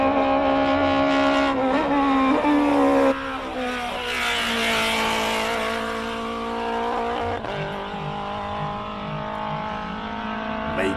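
A race car's engine roars loud and close during a Simola Hillclimb run, pitch climbing and falling through gear changes, with a brief tire squeal and no talking.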